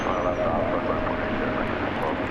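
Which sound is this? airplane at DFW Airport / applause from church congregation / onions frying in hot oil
airplane at DFW Airport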